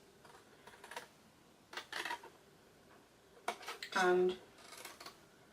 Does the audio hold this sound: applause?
no